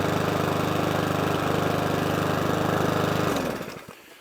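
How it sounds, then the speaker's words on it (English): A Mountfield 414 petrol push lawnmower engine runs steadily and loud up close, a constant droning chug that suddenly cuts out near the end and winds down to quiet. "But I've now got a Mountfield 414 push mower,"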